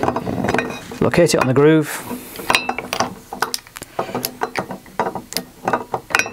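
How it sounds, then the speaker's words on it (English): A torque wrench set to 15 newton meters ratchets and clicks while tightening during a blade installation, giving close, sharp mechanical clicks in quick irregular runs, with a voice talking over the first seconds. "Tighten away so it clicks."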